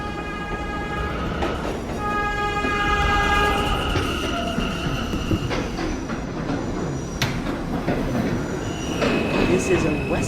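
A New York City subway B train running on its rails, a steady loud rolling rumble with high sustained wheel squeals and tones through the whole stretch, up close from inside or beside the car.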